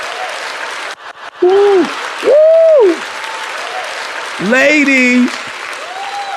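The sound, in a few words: studio audience clapping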